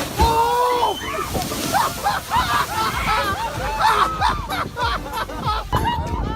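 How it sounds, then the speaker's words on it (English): A whale breaches and crashes back into the sea right beside a tour boat, with heavy sloshing and splashing water up close, while excited passengers chatter and exclaim throughout. "An incredibly lucky moment for a tour boat was when the whale made a giant leap"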